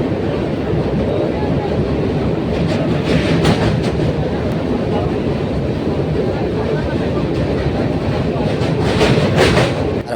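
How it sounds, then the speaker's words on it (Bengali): A train runs along a railway line near the wide Godavari river, a loud continuous rumble with rhythmic rattling of wheels and cars and faint voices underneath. "আর ওইদিকেও ট্রেন চলছে,"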